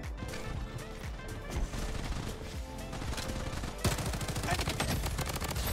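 Rapid MP5 submachine gun bursts in the shooter game Bloodstrike, dense automatic fire crackling continuously over a busy mix of other shots and game effects, with a brief voice in the background.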